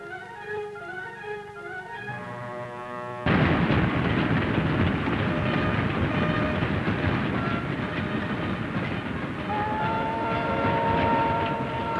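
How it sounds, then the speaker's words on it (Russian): Soft music gives way abruptly to a loud, close train roaring past in the mountains of Kyrgyzstan, heavy rumble with rhythmic clatter of wheels over rail joints. "Пришел в горы поезд."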